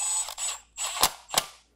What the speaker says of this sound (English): let's get that tightened down with a Torx